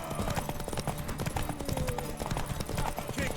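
Horse hooves clip-clop steadily at a brisk pace in The Witcher 3 game, moderately quiet over a busy ambient bed, with no talk during the hoofbeats.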